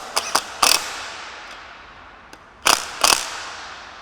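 Short bursts from an impact wrench tightening bolts in a crisscross pattern on a JBS E-Series beater gearbox, a few quick brief pulses early, then two louder rattling bursts near the end, close and without talk.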